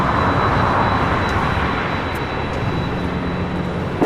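A Boeing 787 Dreamliner taxis at LAX, turning onto a taxiway, a loud, steady broadband engine rush filling the short stretch with no voices.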